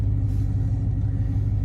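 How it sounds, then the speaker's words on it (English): A car engine idles roughly while running rich after its wideband sensor failed, a loud, close, low pulsing rumble with an uneven beat and no voices. "The car, see how bad it runs?"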